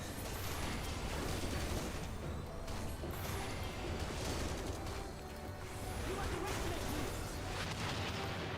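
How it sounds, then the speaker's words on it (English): Gunfire and heavy artillery-like blasts in a Final Fantasy XIV fight, a steady barrage of crashing bursts and booms over a thick wall of battle noise, loud throughout with a brief dip midway. "the audio of gunfire is something I never expected to hear in FF"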